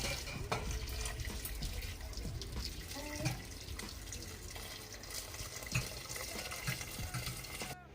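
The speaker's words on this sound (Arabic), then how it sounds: "وغادي نزيدو دابا الماء" Water pouring into a pot of vegetable soup, a faint steady gushing splash that runs throughout with small bubbling accents.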